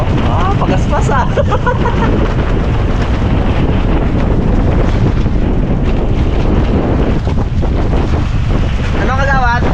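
Strong northeast monsoon wind roars across open sea, buffeting the microphone with constant loud gusts alongside splashing water and a boat's motion, while voices shout over it.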